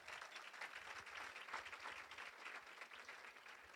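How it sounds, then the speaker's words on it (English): An audience at a school parent kickoff meeting applauds with steady, dense hand clapping that holds at an even, fairly soft level for several seconds with no talking over it. "Let's give her a hand clap for that."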